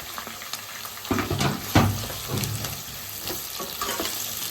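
Onion and capsicum sizzle and fry in a pan, a steady crackling hiss with a few louder bursts as the pieces are stirred, close by with no talking.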